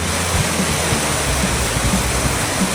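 Rushing flood water on a flooded street, a loud, steady broadband roar of churning water that runs without a break.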